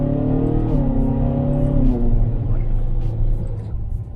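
A 2013 Ferrari California V8 rumbles loudly and close through its stock exhaust on a downshift, its engine tone stepping down in pitch before settling into a deep, steady drone.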